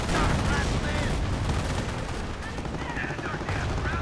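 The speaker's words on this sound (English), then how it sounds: "Lots of artillery." Artillery and gunfire from a World War II strategy video game, 2v2 match, rumble in a dense continuous barrage of booms and shots at fairly close range.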